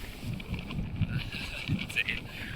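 Gusty wind buffets the microphone in low, uneven rumbles, with a few brief knocks and thumps standing out along the way.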